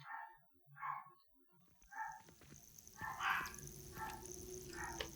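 A dog in the video game Hogwarts Legacy barks and yips in short bursts, fairly close, over quiet game background sound.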